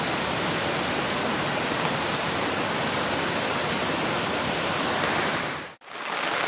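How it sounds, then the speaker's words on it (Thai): The Ka-ang waterfall in Thailand roars as a constant, dense rush of falling water, loud and steady, cutting off abruptly near the end. "อันนี้คือน้ำตกกะอานนะครับ"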